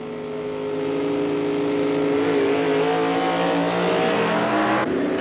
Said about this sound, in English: George Montgomery's A-Gas Supercharged versus Dave Strickler's AFX winner.